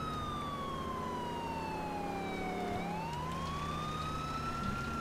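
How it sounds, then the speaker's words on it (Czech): A police siren wails continuously in GTA IV, its pitch sweeping slowly down and then back up under a steady engine drone, loud and close throughout. "Šlápneme na to, no, zapneme si sirénu."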